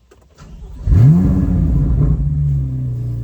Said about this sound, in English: Let us go a driving in the old Corvette.